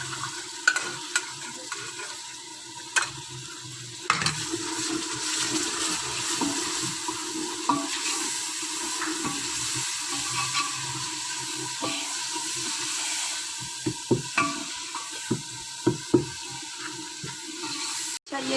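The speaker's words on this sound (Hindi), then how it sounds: "5-10 मिनट हमने इस मसाले की बुनाई करनी है" Masala with yogurt sizzles steadily in a pan while a spoon stirs it, with frequent scraping clicks and knocks over the continuous frying hiss, for a mash daal; no talking.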